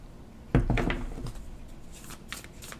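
Tarot cards being shuffled up close, opening with a sharp papery burst and then continuing as a softer, steady rustling shuffle, with no voices.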